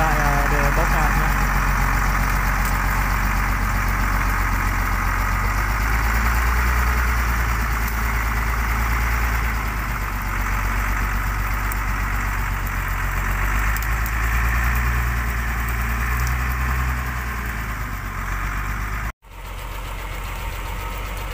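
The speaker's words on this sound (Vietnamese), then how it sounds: "Đây nha, chiếc xe cũng đã khởi hành rồi" Loud, steady diesel drone from a modified six-engine truck hauling acacia logs, heard up close as it pulls away, with a low knocking rumble that runs until a sudden cut near the end.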